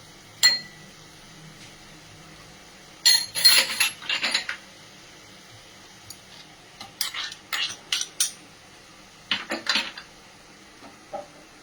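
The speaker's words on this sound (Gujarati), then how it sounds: "ડુંગળી થોડી હાફ કૂક જેવી થઈ ગઈ છે એટલે એમાં આપણે ટામેટાની પ્યુરી જે બનાવેલી છે તે એડ કરીશું." Tomato puree going into half-cooked onions in a pan, with scattered bursts of spoon clinks and scraping against the pan separated by quiet stretches, close and moderately loud.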